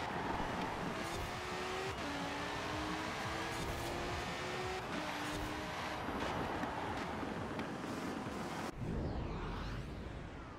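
A race car driven in the video game Forza Horizon 4 gives a loud, continuous engine roar that climbs and drops with gear changes, mixed with wind-like road noise before a sudden cut near the end.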